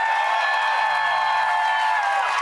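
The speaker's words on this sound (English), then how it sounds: "And clap if you want Brendan to win." A studio audience votes for a contestant named Brendan in a food competition show, producing loud, continuous crowd noise with clapping and cheering, sustained tones and voices blending into a dense wall of sound.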